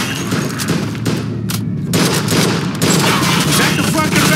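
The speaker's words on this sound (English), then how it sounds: "They're shooting at me, for Christ's sake!" Enemy gunfire in Mafia II pours in as a loud, continuous fusillade of close, rapid shots and booms, broken by a brief lull partway through before the shooting resumes.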